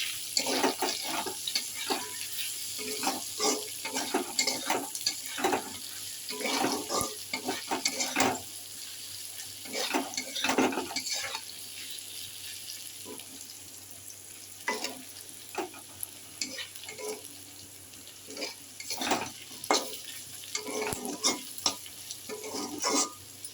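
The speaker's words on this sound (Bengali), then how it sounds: "এবার নেড়ে চেড়ে নেবো।" Onions fry in a pan for chicken alu vaja while being stirred, a continuous sizzle broken by irregular scraping and clattering of the utensil against the pan, with running water from a tap heard in places.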